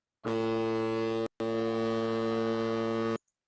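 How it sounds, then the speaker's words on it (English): A foghorn sound effect blares as a loud, steady, deep horn tone, held for about a second, briefly cut off, then sounding again for nearly two seconds before stopping abruptly. "I had forgotten I had this. We have the foghorn"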